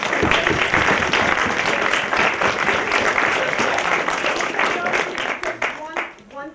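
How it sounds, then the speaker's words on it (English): Audience applause at a symposium at WPVI ABC6 in Philadelphia, a dense, loud burst of many hands clapping that continues steadily and thins out toward the end, with voices mixed in. "let's give a round of applause."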